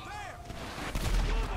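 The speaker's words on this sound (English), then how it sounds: "Eco here is going to be showing us what happens when you get blown up" A rocket launcher explosion in GTA 5 Online lands as a deep, rumbling blast with a low boom near the end, fairly faint and muffled in the mix.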